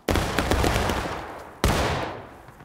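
Rifle volley at a historical reenactment: two loud close crashing blasts of massed musket fire, the second more than a second after the first, each rolling off into a long echoing decay.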